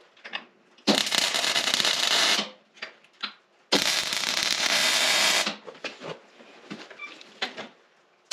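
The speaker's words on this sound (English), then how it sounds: "We'll weld that up and we'll put our handle on." Welding on a homemade steel tire spreader, two long bursts of loud, close crackling and sizzling arc noise, each lasting a couple of seconds, separated and followed by quieter clinks and handling sounds.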